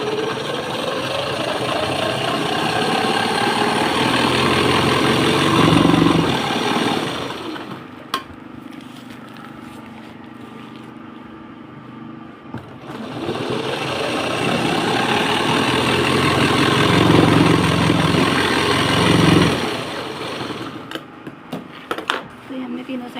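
A sewing machine stitches a large handbag in two long, continuous whirring runs, with a short quieter pause between them and a few clicks near the end.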